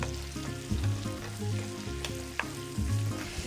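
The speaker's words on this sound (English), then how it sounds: "We're just going to saute these until they get nice and soft and a little bit brown." Food sautés in a pan with brown sugar and a pinch of cinnamon, giving a loud, close sizzle with repeated scraping and stirring strokes and a few sharp clinks against the pan, and no voices.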